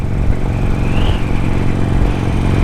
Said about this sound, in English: This thing's got stock mufflers on it that I believe have been punched because they make a little sound.